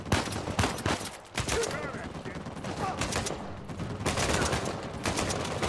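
Repeated gunfire bursts and scattered shots in the video game Uncharted 4, loud and continuous with some ambient noise underneath.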